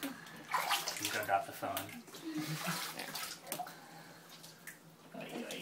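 Water runs and pours during a dog's bath in a tub, soft splashing and trickling at close range while people talk quietly over it.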